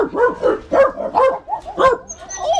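Jack Russell terrier at a breeder's place giving a quick run of sharp, close barks and yips, about five in a row, loud and clear with no talking over it.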